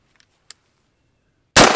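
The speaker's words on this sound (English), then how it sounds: "I have the rest of the 223 ballistic tips and my AR-15 here." AR-15 rifle firing a Federal .223 ballistic tip round: faint clicks, then a single sharp, loud gunshot blast near the end.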